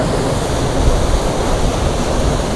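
Strong sea waves surge in at St. Peter's Pool in Malta, a dense, loud, unbroken wash of churning water and wind with no voices.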